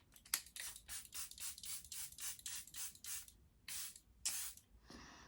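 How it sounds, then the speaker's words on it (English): Charlotte Tilbury Airbrush Flawless Setting Spray pumped close up in about a dozen quick, sharp misting bursts in a steady rhythm, with a brief pause before the last few sprays and no talking. "It's got quite an intense spray on it, but it's quite a strong spray, but yeah, it's a mist"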